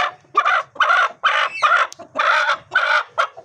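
Chickens and chicks cluck close by in a run of about seven short, rhythmic bursts separated by brief pauses, loud and clear against a quiet background.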